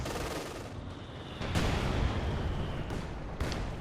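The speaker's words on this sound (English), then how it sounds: "the South Panther continues to be an absolute menace there towards Kolter. Firing away there with main gun and machine gun" Panther tank in Company of Heroes 2 firing its main gun and machine gun in a 1v1 match: loud, full battle noise with sharp reports near 1.5, 2.9 and 3.4 seconds over a continuous rumbling din.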